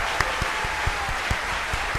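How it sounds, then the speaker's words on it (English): An added applause sound effect dropped into an otherwise empty room, a continuous bed of clapping with distinct thumping beats recurring at regular intervals under it. "I'm just going to add some sound effects because there's no one in the room."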